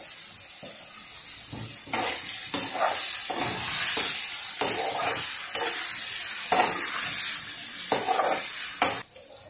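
Tomatoes with turmeric powder fry in hot oil for poha upma, with a loud, steady sizzle under repeated spoon stirs and scrapes against the pan, and nobody speaking.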